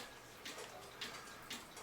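A Kuner farmer-and-wife dancing cuckoo clock under repair ticks faintly and steadily, with soft evenly spaced ticks about half a second apart over low background hiss.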